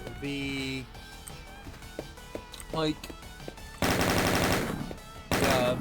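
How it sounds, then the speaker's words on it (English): Chain gun firing in a Counter-Strike style mod for DOOM running on the Zandronum engine, loud rapid automatic bursts in two sustained volleys near the end, preceded by scattered game sounds and talk. "This is the chain gun."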